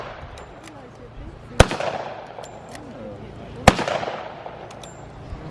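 Two sharp, loud cracks from a British bolt-action rifle fired at a wartime Britain display, spaced about two seconds apart, each with a short echoing tail over faint background chatter.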